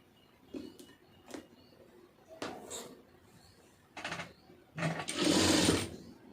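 Sewing machine stitching the seam of a cigarette pant, a few short mechanical bursts and clicks building to a louder sustained run of stitching at the end, close by with no talking.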